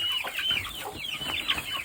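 Chickens just moved into a coop, clucking and chirping in a busy overlapping chatter, close and fairly loud for a short stretch without talk.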